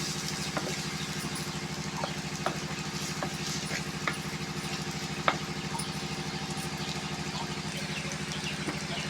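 Onions fry with salt in a pan, a steady low sizzle and bubbling hum with occasional soft clicks and stirring taps, fairly quiet and continuous.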